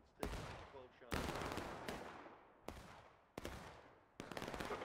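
Musket volleys in the Civil War game War of Rights, a few loud booming shots spaced over several seconds, each ringing out with a long decaying echo across the field.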